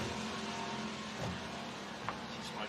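Off-road race car from the Don River Dash 2024 passing on the course, a steady engine drone with faint revving swells and a brief sharp blip near the end, heard at moderate distance without talk.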